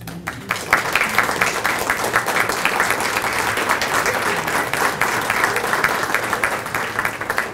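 A large audience at a college Hall of Fame induction ceremony applauds inductees from previous years, producing loud, steady, dense clapping that swells quickly and holds for several seconds, alone without speech.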